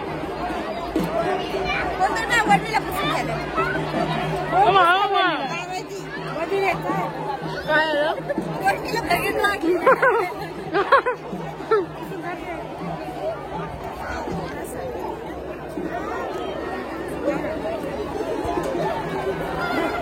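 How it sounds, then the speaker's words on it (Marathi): Dense crowd of pilgrims at the Ambil yatra in Nighoj, a steady hubbub of many overlapping voices chattering close by for the whole stretch, loud and unbroken. "गर्दी बघा भरपूर आहे."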